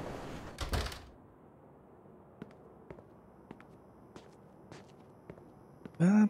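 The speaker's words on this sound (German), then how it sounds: "Tritt die Tür ein." A door is kicked in during the Mafia 2 Definitive Edition game: one brief, heavy crash early on, then a hushed room with soft, scattered footstep-like taps. A loud sound cuts in at the very end.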